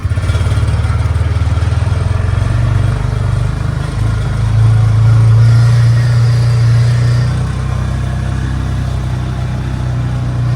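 The engine of a 2023 Polaris Ranger 570 SP utility vehicle drones loudly and steadily from up close as it drives, with a low, even tone that swells briefly as it picks up speed.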